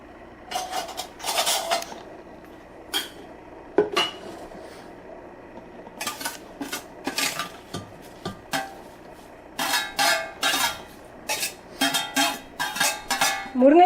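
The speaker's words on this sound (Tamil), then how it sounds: "இதையும் சேர்த்து இப்போ நம்ம ஆட் பண்ண போகிறோம் அந்த மாவோட" Drumstick leaves being mixed into urad dal vada batter in a bowl: rhythmic bursts of stirring and scraping with clinks of a spoon against the vessel, separated by short pauses, close and fairly loud, with no talking.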